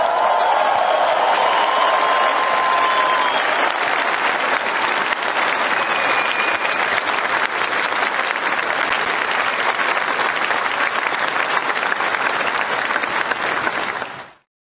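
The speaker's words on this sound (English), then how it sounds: "these people are standing up and giving him an ovation" A large audience gives a standing ovation, dense sustained applause roaring evenly for about fourteen seconds before cutting off abruptly.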